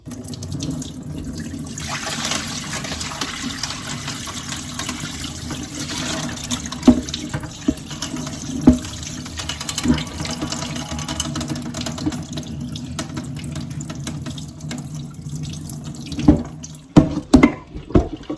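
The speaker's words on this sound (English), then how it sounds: "And I'm going to rinse it again for the second time" Tap water runs continuously into a kitchen sink while honey beans are rinsed for cooking, a steady close splashing rush broken by occasional clinks and sloshes near the end.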